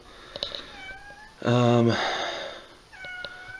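A house cat meows loudly and close, one long drawn-out call in the middle framed by shorter, fainter mews, with a voice talking briefly.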